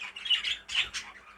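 Green family birds from a breeding pair give a few sharp, harsh squawks in quick succession, close and fairly loud.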